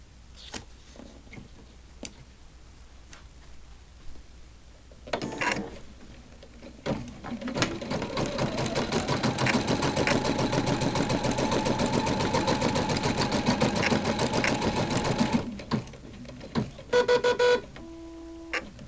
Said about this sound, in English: So we'll go ahead and do our tack down for the second applique.